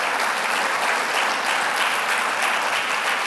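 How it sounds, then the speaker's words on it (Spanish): A church congregation claps for Jesus in a loud, sustained round of dense applause that stays even and unbroken from start to finish. "¿Cuánto le podemos dar un fuerte aplauso a Jesús?"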